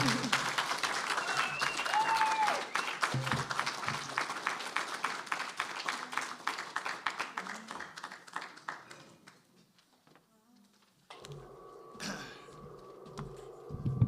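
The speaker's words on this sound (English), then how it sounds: "Can we have another round of applause for Autumn Wallace?" Audience applause follows a poetry reading at a faculty presentation, a dense burst of clapping that thins and fades out after about nine seconds, then a brief quiet before talk and scattered noise resume.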